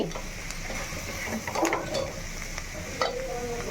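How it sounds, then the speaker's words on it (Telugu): Spoon stirring ridge gourd pieces through a curry in a frying pan, a steady scraping sizzle with a few louder clinks of utensil against metal, close and continuous with no talking. "పూర్తిగా కలిపేసి"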